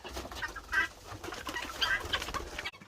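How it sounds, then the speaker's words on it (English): Flock of seventeen young backyard chickens kept in a shed, soft overlapping clucks and peeps close by, a continuous busy chatter with no human voices. "So we have 17 birds and they are a joy and I really love taking care of them."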